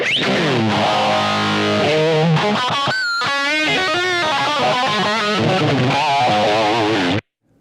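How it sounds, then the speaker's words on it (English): A distorted electric guitar through a BOSS GT-1 plays sustained chords and bending lead notes, its tone swirling with a 4-stage phaser at rate about 30 and depth about 40, loud and close, then stops abruptly. "I've got a 4-stage phaser selected, rates at about 30 and depths at about 40."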